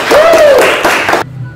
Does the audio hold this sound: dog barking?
no